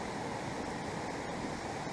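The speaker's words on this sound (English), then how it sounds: "Nothing like a little bit of moving water to" Continuous outdoor rush of moving water in a natural setting, a dense, even wash of sound with no breaks and no voices.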